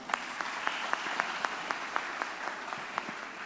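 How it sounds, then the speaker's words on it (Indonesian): Audience applause at a university personal branding talk, a soft, thin patter of clapping from a smallish crowd with a few sharper individual claps standing out, steady and fairly quiet throughout. "Tepuk tangan bareng-bareng dong."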